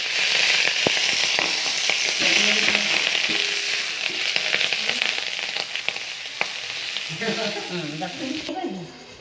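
Cabbage and jowar-flour thalipeeth sizzles and crackles loudly in a hot pan, a steady frying hiss with sharp pops, briefly joined by a scraping stir near the end.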